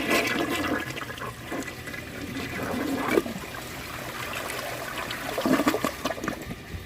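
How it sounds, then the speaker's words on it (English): A 1998 Kohler Wellworth Ingenium toilet flushing on a second flush, a close rushing gurgle of water draining away, then trickling and refilling at moderate volume with no talk. "let's just see if it can take this on a second flush"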